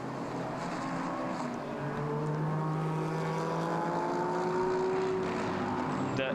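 Race cars including a Silver Am Porsche and a Lexus run during Japan Cup qualifying at Okayama, their engines droning steadily with rising and falling pitch as they pass at a middle distance.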